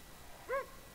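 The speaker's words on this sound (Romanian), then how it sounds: "mi-am luat câine" A dog in the video game Far Cry New Dawn gives a single short, high yelp or bark over quiet background ambience.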